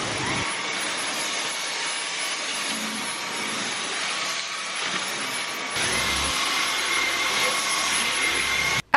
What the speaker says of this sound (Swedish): Så i så fall är allt det här smuts som jag har dammsugit upp nu bara idag.